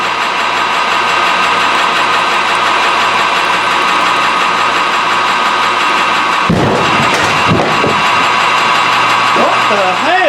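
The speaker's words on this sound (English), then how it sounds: "It literally exploded the bottom out of the air compressor." An air compressor sitting outside runs with a steady mechanical hum until a sudden sharp burst erupts, followed by a second crack and scattered rattling as the noise settles.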